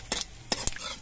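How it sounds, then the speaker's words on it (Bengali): Panch phoron spices fry in hot mustard oil while a spoon stirs them in the pan, three quick scraping clatters over a soft continuous sizzle. "পাঁচফোড়নটা নাড়াচাড়া করে ভেজে নিতে হবে।"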